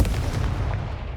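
A Confringo fire spell blasts in the Hogwarts Legacy video game: a single heavy, booming burst that hits hard at the start, then rumbles and fades over about a second.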